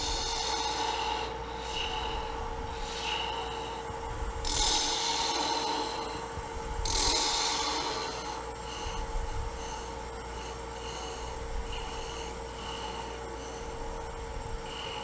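A sharp turning tool scrapes and rasps against spinning wood on a lathe, with a steady hum underneath and a couple of brief louder bursts of shaving.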